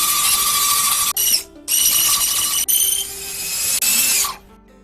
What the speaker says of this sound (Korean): 드릴에 나무를 끼우고 지그 홀 속으로 밀면서 돌려주면